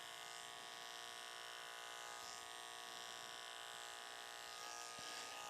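An electric hair clipper buzzes continuously and faintly through a short Princeton-style clipper cut, a steady high whine with no talking.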